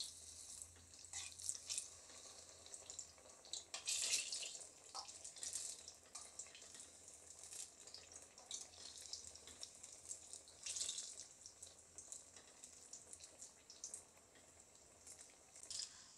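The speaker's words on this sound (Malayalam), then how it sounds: "ബാക്കിയുള്ള പഴവും അതുപോലെ മാവിനകത്ത് നന്നായിട്ട് മുക്കിയിട്ട് നമുക്ക് എണ്ണയിലേക്ക് ഇട്ട് കൊടുക്കാം" Banana fritters (pazham pori) dipped in batter sizzle and hiss steadily in hot coconut oil, a continuous close bubbling crackle with brief louder flares and no talking.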